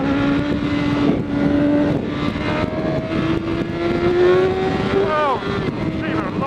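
A BMW S1000RR motorcycle accelerates hard on wet roads, its close engine roaring and rising in pitch through quick upshifts, with wind noise and a rider speaking over it.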